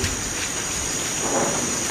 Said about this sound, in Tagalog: May bagyo po kasi ngayon